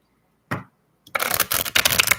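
Tarot cards being shuffled by hand, a brief riffle followed after a short pause by a longer, continuous papery flutter, close and fairly loud with no talking.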